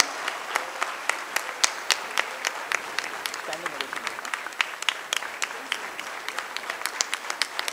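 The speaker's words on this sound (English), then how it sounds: "Give him a huge round of applause" An audience claps steadily at the KIMS graduation ceremony for a graduate receiving his MD degree, with dense, sharp hand claps sustained throughout at moderate distance.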